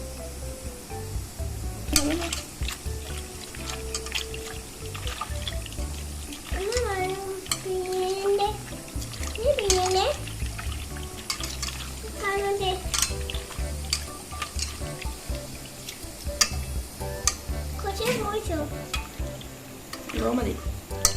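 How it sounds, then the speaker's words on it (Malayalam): Ripe mango peels are squeezed by hand in water for a Kerala mango pachadi, producing wet squelching and sloshing with occasional clinks of a bowl, while a voice and other speech are heard throughout. "ഈ മാമ്പഴത്തിൻ്റെ തൊലിയിലേക്ക് നമുക്ക് കുറച്ച് വെള്ളം ഒഴിച്ചിട്ട് ഇതിൻ്റെ സത്തൊന്ന് പിഴിഞ്ഞെടുക്കാം"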